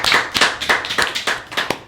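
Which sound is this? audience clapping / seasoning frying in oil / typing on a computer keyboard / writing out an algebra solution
audience clapping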